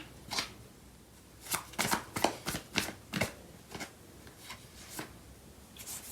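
Tarot cards being shuffled by hand in a series of crisp riffling bursts and soft slaps, irregular in rhythm, close and fairly quiet with brief pauses between handfuls.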